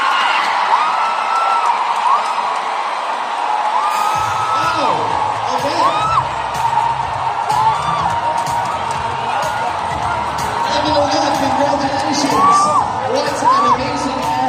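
Pageant audience at the Miss Iligan 2023 contest erupting after a contestant's speech: a loud, sustained crowd roar with high whoops, shrieks and yells rising over the cheering throughout.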